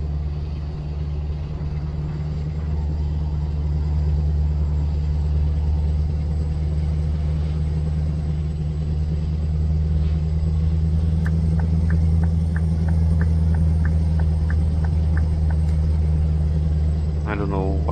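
Scania V8 truck engine in Euro Truck Simulator 2 with the ProMods 2.0 winter mod, a deep steady idling rumble that holds throughout, with faint clicking ticks and a short rising chirp near the end.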